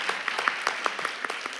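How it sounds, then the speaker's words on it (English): Brief crowd applause at a closing session, a dense patter of many hands clapping, moderately loud and close, with no talk over it. "Can y'all clap for me?"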